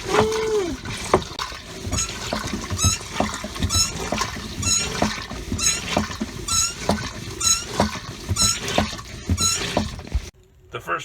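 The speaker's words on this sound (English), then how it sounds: "we were able to flush it a few times with salt water, that would make it smell better" A marine head aboard a sailboat in Tahiti is hand-pumped to flush with salt water, giving a steady rhythm of squeaky pump strokes and sloshing water under faint voices.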